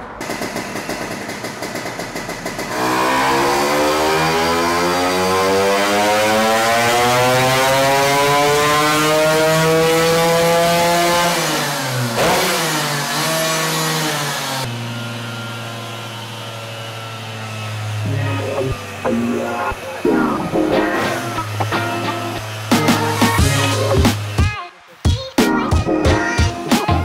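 A Vespa smallframe scooter engine runs on a dyno, its pitch rising steadily as it revs up through a long pull, then dropping to a lower idle. The revving continues choppily to the end.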